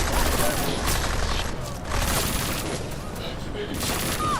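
Rapid bursts of gunfire crackle and boom in a busy, continuous barrage from a road in the video game Deus Ex: Mankind Divided, with voices mixed in under the shooting.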